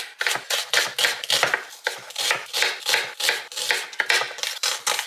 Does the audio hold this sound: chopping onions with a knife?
yes